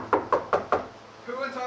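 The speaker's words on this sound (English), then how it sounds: "Who in tarnation is out there banging down my door?" Four sharp, evenly spaced knocks strike a wooden door up close, then a voice begins speaking right after.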